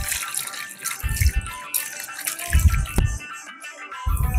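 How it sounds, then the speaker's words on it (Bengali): Cut potato pieces washed in water in a kitchen: bursts of splashing and rattling knock in intermittent clumps, close and moderately loud, with sloshing and dripping between them and no voices. "আলুগুলো এভাবে কেটেছি, এবার এটাকে জলে ধুয়ে নেব।"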